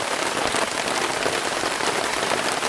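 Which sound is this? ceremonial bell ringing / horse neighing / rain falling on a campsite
rain falling on a campsite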